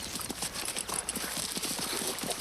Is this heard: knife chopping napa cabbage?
no